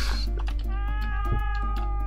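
A cat meows in the video game Rakuen, several clear, tonal meows in quick succession over a steady low hum, close and fairly loud with no talk.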